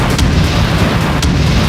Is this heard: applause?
no